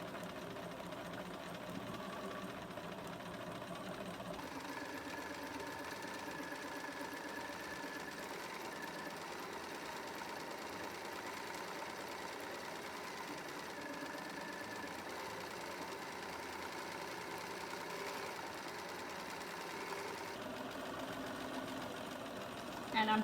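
A sewing machine stitches a quarter-inch quilt seam with a steady, even mechanical whir that runs for most of the stretch, fairly quiet and close, starting after a few seconds and stopping just before the end.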